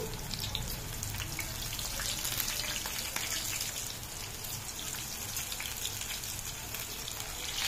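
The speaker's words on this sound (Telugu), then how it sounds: "వేగుతుందండి" Okra (lady's finger) chips frying in hot oil, giving a steady, dense crackling sizzle that holds at an even level throughout, with no talking.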